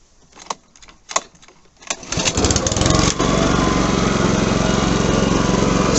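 Honda HRB535 walk-behind lawn mower: a few clicks and pulls, then the engine catches at about two seconds and runs loud and steady nearby until the end.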